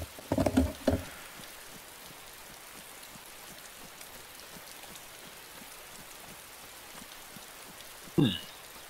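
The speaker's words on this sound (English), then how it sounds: "This rain had better stop soon or I'm dead." Rain patters steadily and softly in the survival game DayZ, a continuous faint hiss of drops, broken by a brief louder knock near the start and another short sound near the end.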